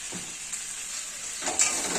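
Steady oil sizzle and frying hiss rise from a pan of puti fish curry as it is stirred, with a brief scrape of the spoon near the end.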